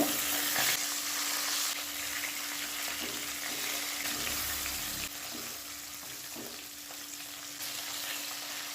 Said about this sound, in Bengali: মাছের এক পিঠ ভাজা হয়ে গেছে,